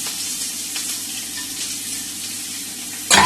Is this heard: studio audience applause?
no